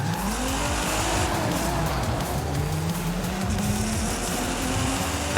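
A Nissan Z engine drones loudly in the racing game Forza Horizon 5, its pitch climbing steadily through the gears with tire noise underneath.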